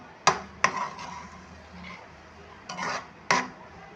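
Roasted semolina being stirred into a carrot mixture in a pan for carrot semolina barfi, with a few sharp spoon-against-pan knocks and soft scraping in between.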